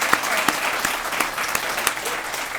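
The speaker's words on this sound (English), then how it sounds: "let's give a round of applause to our military spouses" An audience applauds military spouses at an International Women's Day morning event, a steady wash of clapping with a few sharper individual claps standing out, and no talk over it.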